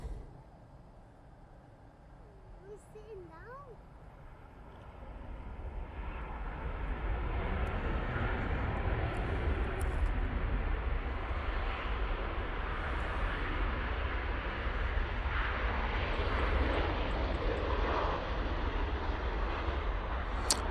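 A Ryanair jet landing at Manchester Airport on arrival from Cork, its engine roar swelling from faint to a steady, moderately distant rumble that holds to the end.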